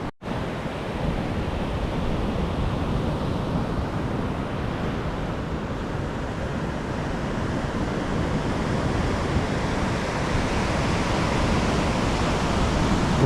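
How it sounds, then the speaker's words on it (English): A steady, loud roar of rough sea surf crashing on a beach in Vietnam, with heavy wash and wind noise, continuous throughout with no pauses. "Rough old sea indeed, look."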